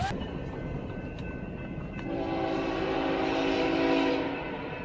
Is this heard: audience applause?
no